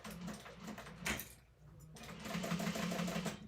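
A sewing machine bastes along a raw fabric edge, running in a steady close whir that stops briefly, then starts up again and continues, with no speech.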